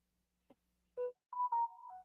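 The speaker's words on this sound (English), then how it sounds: "that was just the notification on my phone saying that I went live" A phone notification chime announcing a live stream going live: a brief click, then a short tonal beep and a sustained two-part melodic tone, clear and isolated in a quiet room.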